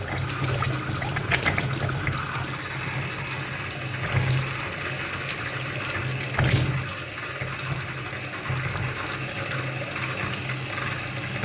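Water running from a tap on a farm in Portugal, a strong, steady close rush with splashing and occasional sputters, like air in the line, continuing for the whole stretch without speech.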